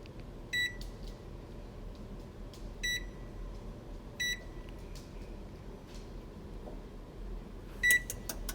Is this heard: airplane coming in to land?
no